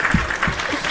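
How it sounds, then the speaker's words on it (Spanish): A short burst of audience applause at a panel event on living with neurodivergence, brief and moderately loud, lasting under a second. "Fer, aplausos reales también"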